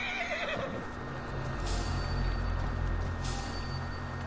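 A horse whinnies in Assassin's Creed Valhalla, a descending neigh at the start followed by a sustained game ambience with low rumbling and a faint steady hum, no talk.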